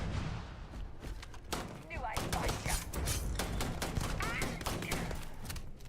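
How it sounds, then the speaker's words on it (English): Semi-automatic rifle gunfire in a space-themed video game, a rapid series of sharp, separate shots cracking out one after another, fairly close, with speech faintly under the shooting. "this rifle is a semi-automatic"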